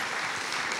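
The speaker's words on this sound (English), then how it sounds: "He gets an applause." Brief burst of audience applause for a co-host at a Pecha Kucha presentation night, a steady wash of clapping from a crowd, fairly even in level and without any voices.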